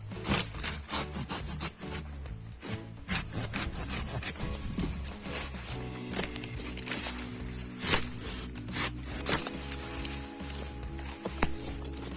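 A garden hand saw with large, aggressive teeth rasps back and forth through wood in steady, close strokes, the rhythmic cutting loud and uninterrupted by speech.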